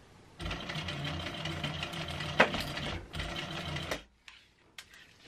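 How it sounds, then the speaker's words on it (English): A sewing machine stitches a small-animal carrier bag with mesh sides in a close, rapid mechanical run of about three seconds. It pauses briefly, runs again, then stops, and a few light clicks follow. "And then I'm going to sew"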